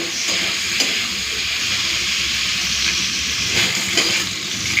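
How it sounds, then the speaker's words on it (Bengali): Salted bitter gourd fries in hot oil until it reddens, a close, steady sizzle and hiss that holds at an even level throughout, with no talking. "নুন দিয়ে দিয়েছি একটু লাল করে ভেজে নিচ্ছি"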